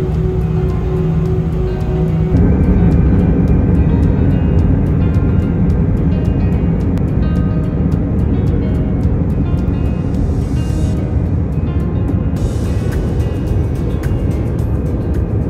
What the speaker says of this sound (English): So we are just heading to the runway, and once we are airborne